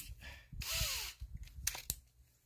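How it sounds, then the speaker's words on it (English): A small drill bores into the metal of a Blackstone griddle press, giving short bursts of whining, grinding noise separated by brief pauses, close and moderately loud. "we'll start out with this little drill here and see what happens"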